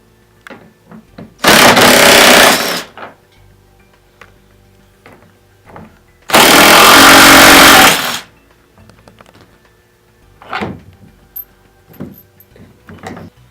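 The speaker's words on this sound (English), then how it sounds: "Now we will remove the basket retainer hardware with a 10mm socket." A powered 10mm socket removes basket retainer hardware during a Precedent rear seat installation, with two loud whirring bursts of about two seconds each, separated by quieter clicks and handling noises.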